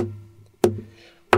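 Fingers tap out a guitar percussion pattern: two sharp, close knocks about two-thirds of a second apart, with a faint lingering tone between them.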